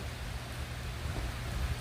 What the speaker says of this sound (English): So there was a lot of rain and a lot of wind, and the rain's blowing straight in this bit